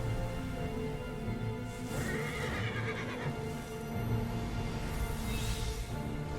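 A horse neighs and whinnies in Final Fantasy XVI amid a dense, loud game soundscape, with a long whinny rising over rumbling battle and music layers.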